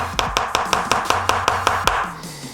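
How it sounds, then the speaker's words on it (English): A plastic end cap on a bicycle dropper-post cable housing is smacked against a table about eight times in a quick, steady rhythm, each hit a sharp near knock with no talking. "I like to smack them on the table. You might hear a sound difference once it gets on all the way"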